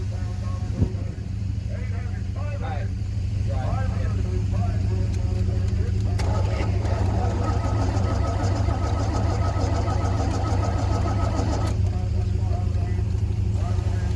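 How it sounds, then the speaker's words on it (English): A 1974 Chevrolet C10 pickup's engine is cranked repeatedly at a rural farm auction, a low rhythmic churning drone that persists throughout, close by, with people talking over it. "he was already cranking on it"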